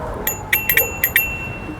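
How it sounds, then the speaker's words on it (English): A bicycle bell rings in quick bright dings, about six strikes in pairs and singles, over steady outdoor road noise during a city ride in Miami. "that little trusty bell does the trick all the time"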